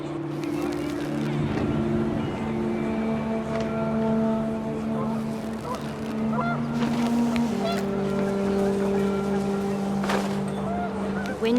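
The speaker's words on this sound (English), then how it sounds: "The wind picked up, and panicked geese appeared and quickly went." Panicked geese honk in the game What Remains of Edith Finch, a repeated, overlapping honking over gusting wind and a steady low drone, with a voice speaking over it.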